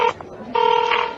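Telephone dialing tones for a call to the boss, short steady two-tone beeps with a brief pause between, loud and close, no talking.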